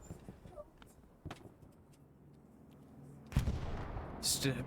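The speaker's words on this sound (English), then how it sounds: "Long range rockets coming from across the world" Long-range rocket fire in Hell Let Loose on the Carentan map lands as a few dull distant booms, then a heavier, closer blast near the end with a sharp crackling tail.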